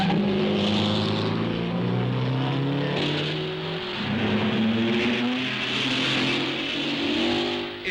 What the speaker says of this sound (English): On lap 20, Hawthorne and Collins scream past the pits, straining every nerve, with Fangio snapping at their heels